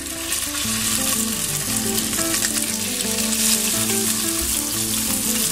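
Tuna drops into a hot pan of olive oil and fries, giving a loud, steady close sizzle that runs unbroken throughout, with faint background music beneath it.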